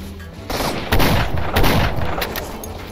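Shotgun fire in the Stalker Old World video game, several heavy booming blasts in quick succession with a broad burst and ringing decay, loud and close.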